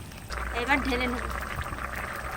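Ground paste of fried cumin and dried red chilli is poured into a cooking pot, making a short, soft wet pour with a faint voice in the background.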